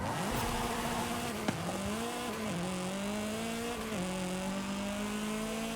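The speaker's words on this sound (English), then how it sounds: "I'm drifting now" A car drifting in a game race, engine holding a steady high tone with abrupt pitch drops at gear or throttle changes, continuous and fairly loud, with no talk over it.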